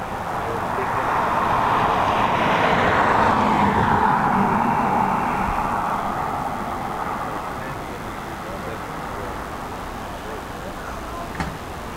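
A British Airways Airbus A320 arrives at Dublin Airport in high winds, its roar swelling from a distant rumble to a loud whoosh and fading as it passes, with wind and road noise underneath.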